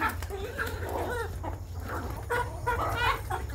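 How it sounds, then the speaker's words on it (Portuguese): Large chickens, roosters among them, cluck repeatedly at close range on a small farm, steady low rural background noise beneath. "Olha o tamanho desses frangos aqui, vendo?"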